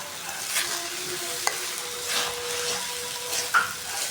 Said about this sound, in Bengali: আইসা রেস্ট নিয়ে এই যে রান্না বসালাম